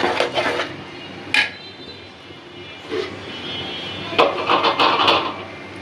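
Chicken being mixed into a pot of chicken biryani, with a few scattered metallic scrapes and clanks of a spoon against the pot over a steady low background hum; no talking.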